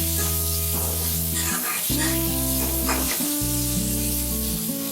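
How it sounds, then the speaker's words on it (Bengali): Onion and garlic frying in a pan, a constant loud sizzle with bright hiss, while a steady tonal hum with shifting pitch steps runs underneath the whole time. "পেঁয়াজটা রসুনটা হাফ লাল হয়ে গেছে। দিয়ে দেবো, দিয়ে ভালোভাবে ভেজে নিব।"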